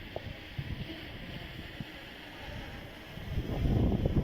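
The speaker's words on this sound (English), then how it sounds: "See how windy that is?" Gusty wind buffets the microphone of a flying selfie drone, soft rustling turning into heavier rumbling blasts toward the end.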